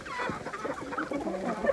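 Hens cluck together while being fed on a cold day, a close, busy jumble of soft overlapping clucks and murmurs with no talking.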